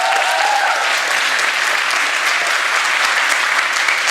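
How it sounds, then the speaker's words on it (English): A jazz camp performance audience gives loud, continuous applause for a young trombone player, dense clapping steady from start to finish, close and full. "Give him a round of applause."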